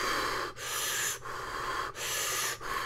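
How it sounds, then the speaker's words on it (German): Loud, harsh breathing in a steady rhythm, four heavy rasping breaths close up, each separated by a brief pause, with no talking. "Ständige Schnaufen. Ich hasse das wirklich."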